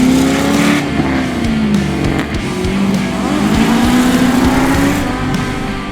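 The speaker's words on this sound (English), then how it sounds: "The car is a Nissan 180SX and is a 94 model import from Japan. Put in a Holden LS1 V8" A 1994 Japanese-import Nissan 180SX fitted with a Holden LS1 V8 drifts on tarmac at a rally sprint, its engine loud and close, note rising and falling with revving and tyre squeal.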